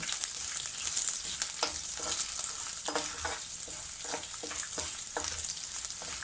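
A curd rice tempering fries in a pan, a soft continuous sizzle broken by scattered light scrapes and taps of stirring, close and fairly quiet, with no talking.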